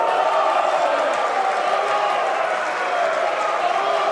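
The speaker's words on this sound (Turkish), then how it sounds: "Muhalefet tarafından da alkışlanmak Hakikaten güzel bir duygu." Members of the Turkish Grand National Assembly applaud in the parliament chamber, a dense, steady wash of clapping from a large crowd that holds evenly for several seconds.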